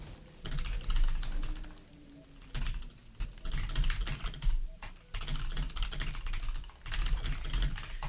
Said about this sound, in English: Sorry, I'm typing my friend at the same time.